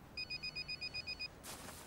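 A telephone bell rings in a rapid, regular burst of about ten short pulses, clear and fairly close, then stops as a brief rustle follows.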